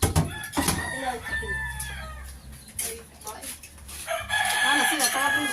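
A rooster crows loudly nearby on a Philippine farm, with clucking hens and brief wing flaps around it, while people talk in the background.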